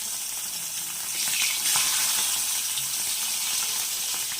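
Bengali fish curry (machher jhal) with onion, tomato, peas, coriander and green chillies sizzling in a pan, a continuous close hiss that swells midway, with no talking.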